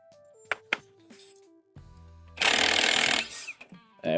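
A power tool rattles loud and rough for about a second as it undoes the crank pulley bolt on a 2021 Ford Ranger engine, preceded by scattered metallic clinks and taps and followed by a few short knocks.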